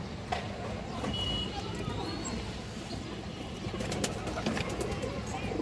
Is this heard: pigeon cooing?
yes